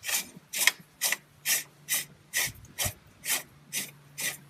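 A spin-on air dryer filter on a Freightliner Cascadia truck being unscrewed by hand: about ten rhythmic rasping, ratchet-like scrapes, evenly spaced roughly every half second, close and clear with no talk.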